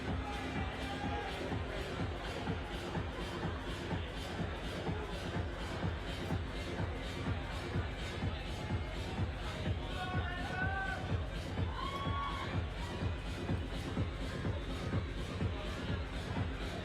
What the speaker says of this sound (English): atmosphere here is really ramping up behind us. Look at the size of the crowd